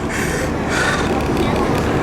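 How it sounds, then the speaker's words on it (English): A New York subway A train rides toward Manhattan, a loud close rumble and hiss of the moving car filling the scene while a person talks over it. "I'm on the A train on"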